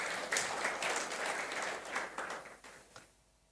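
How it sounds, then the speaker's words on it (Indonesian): A church congregation applauds during a sermon, a moderately loud wash of clapping that fades away over a few seconds. "Ada tepuk tangan bagi Tuhan."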